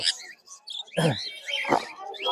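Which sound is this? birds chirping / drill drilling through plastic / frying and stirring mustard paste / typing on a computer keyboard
birds chirping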